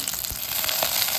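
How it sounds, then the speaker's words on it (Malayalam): Mustard seeds and chillies sizzle briefly in hot oil, a close, steady crackling fry with no voices. "എണ്ണ ചൂടാകുമ്പോഴേക്ക് കടുകിട്ട് കൊടുക്കാം"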